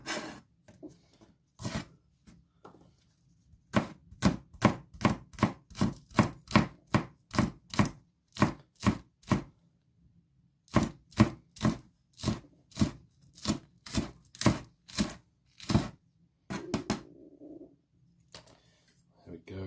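Spring onion being chopped on a board with a knife, heard as a fast, steady run of sharp close knocks in two long bursts with a short pause between, followed by a little faint handling noise.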